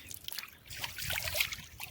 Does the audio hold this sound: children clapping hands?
no